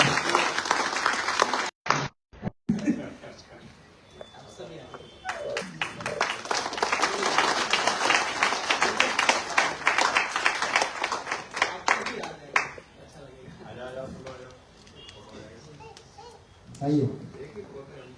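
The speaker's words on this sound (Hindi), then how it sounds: "अंकल का स्वागत करेंगे, जोरदार तालियों से।" Applause from a congregation at a live Christmas service welcoming a guest, with dense clapping under a busy mix of voices, children and talk, rising and falling over the span.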